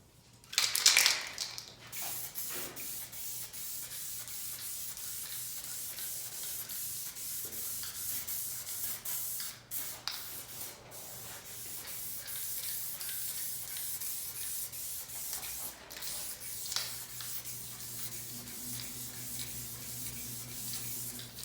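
A spray can lays clear coat over Krylon enamel on a speaker cabinet with a continuous close hiss and light rubbing sounds throughout, starting with a louder burst and a steady low hum underneath.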